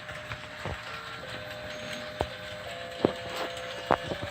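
A model train in a Christmas village display runs out of a tunnel past a working crossing gate, with a steady low mechanical whir and scattered small clicks and clacks, fairly close and moderately quiet.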